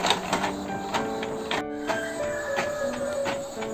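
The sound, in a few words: printer printing a school midterm exam report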